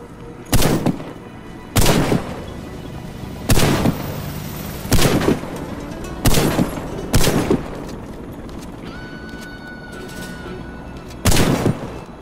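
Shotgun blasts in the shooter game Warface ring out as seven loud, sharp booms at irregular intervals of one to two seconds, each with a short decaying tail, over faint background game ambience.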